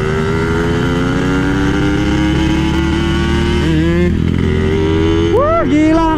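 A motorcycle fitted with a PWK carburetor revs hard, its engine tone rising and falling through several sharp accelerations, loud and close throughout.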